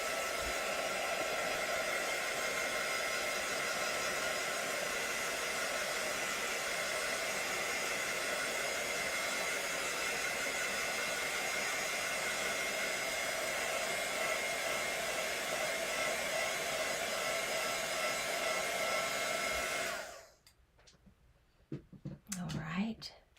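A heat tool blows hot air over mixed media artwork, a loud, steady whooshing roar held close for about twenty seconds before cutting off abruptly, followed by faint handling clicks.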